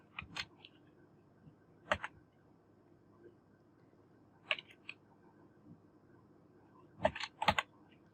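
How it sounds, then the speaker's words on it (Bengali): Sparse keystrokes on a computer keyboard as a name is typed into a search box, with a few isolated clicks and short clustered bursts of taps, fairly close and quiet with no talking. "যদি আমরা লিখি সালমান খান"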